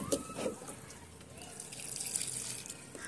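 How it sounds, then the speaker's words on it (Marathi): Water splashes and trickles as a rose cutting is watered, a quiet pouring sound with a few drips that swells slightly toward the end. "तर आपण याला पाणी देऊन घेतलेलं आहे."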